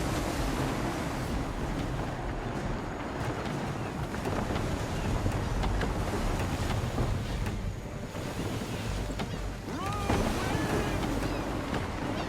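A sailing ship at sea in Assassin's Creed 3 on PS4: waves surge and wash against the hull under a constant roar of wind, with creaking timbers and a louder splash near the end.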